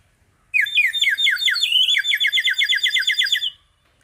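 A water-filled bird whistle is blown close up, imitating birdsong with about three seconds of bright, rapid warbling trills that start and stop abruptly against silence.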